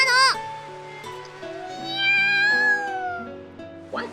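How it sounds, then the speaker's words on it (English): A black cat in The Fruit of Grisaia gives a few close, clear meows, the middle one long and drawn out with a rising then falling pitch, over quiet background music. "The black cat from the other day appears from somewhere or others."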